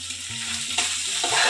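Kashmiri chilli, salt and sugar being stirred and fried in a pan as spices are cooked down, a loud close sizzle with scraping stir strokes throughout.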